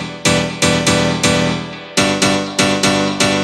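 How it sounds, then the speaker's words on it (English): M1 piano plugin alone, playing rhythmic piano house chord stabs, eight bright struck chords in an even syncopated pattern, each decaying quickly, loud and upfront with no talking. "The M1 sounds like this on its own."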